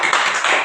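Children clap together in a classroom during an English lesson, a dense burst of hand claps filling the short moment without speech.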